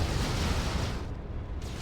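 Lascannon fire in Warhammer 40,000: Dawn of War 2, a loud, heavy roaring blast with deep rumble that fills the short moment and briefly thins before resuming.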